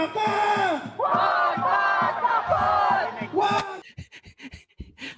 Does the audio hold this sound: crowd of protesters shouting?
yes